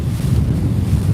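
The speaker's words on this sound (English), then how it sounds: "So we're going kind of into the waves right now. That's why it's bouncing a little bit. We're splashing quite a bit." A small new dinghy bouncing and splashing into waves beneath the Golden Gate Bridge, heard as a brief, loud, steady roar of wind and water rushing against the microphone, with no talk.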